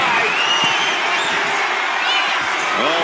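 A large arena crowd cheering and roaring in the wrestling game WWE 2K25, a loud continuous wash of voices with rising whoops and whistles, under a commentator talking.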